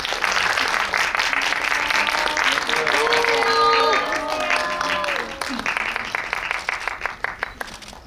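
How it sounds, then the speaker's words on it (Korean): A cinema audience at a film talk event applauds loudly and continuously as actors and director are welcomed, then the clapping thins out toward the end while a voice speaks over it. "큰 박수로 환영해 주세요."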